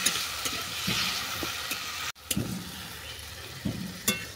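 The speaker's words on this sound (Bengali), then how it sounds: "আবারও ভালো করে কষিয়ে নেব।" Green chillies stir-fried into a turnip and fish curry, with steady sizzling, a few spoon scrapes against the pan and one brief break near the middle.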